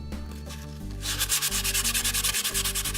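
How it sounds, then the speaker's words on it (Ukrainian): Fine-grit sandpaper scrubbing a plastic faucet spout, close and loud, in fast rhythmic back-and-forth strokes after a brief lower rubbing start. "Допомагає лише дрібнозерниста наждачка."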